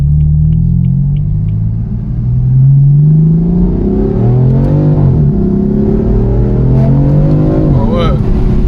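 A BMW M4 F82 with 431 hp accelerating hard, heard from inside the cabin: a loud, close engine rumble climbs steadily through the revs in rising sweeps as people talk over it.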